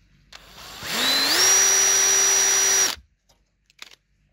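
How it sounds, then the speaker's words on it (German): Power drill with a 2 mm bit gently boring out a hole during a repair of a G-scale garden railway switch, a loud steady whine rising in pitch as it spins up, running about two seconds, then stopping. "Das bohren wir jetzt noch mal ganz zart"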